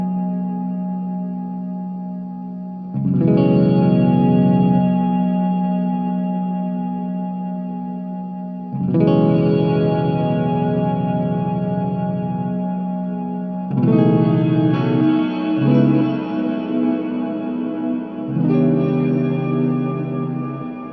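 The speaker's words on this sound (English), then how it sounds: "This controls the modulation on your reverb." Guitar chords played through a JOYO R-14 reverb pedal with modulation added to the reverb, giving shimmering, wavering tails after each of four strums; close, loud and sustained, without speech.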